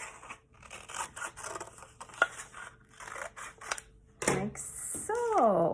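Scissors cutting paper for a collage, close crisp snips and rustling in short bursts, with a brief spoken word near the end.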